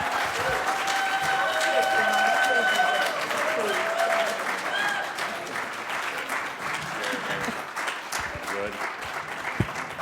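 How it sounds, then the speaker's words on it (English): A crowd at a community poetry celebration in Hartford applauds poet Bessie Reyna with dense, sustained clapping; tonal sounds rise over it early on, then the applause thins and tapers toward the end. "please help me with a roaring round of applause"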